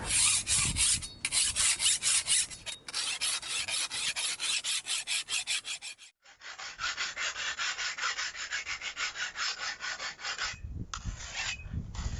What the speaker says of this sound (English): So what we have here is a rasp. And this thing is taking off tons of metal, but it's going to sharpen it real quick.